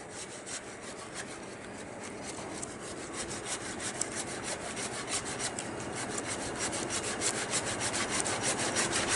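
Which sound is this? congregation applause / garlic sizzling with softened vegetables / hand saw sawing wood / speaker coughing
hand saw sawing wood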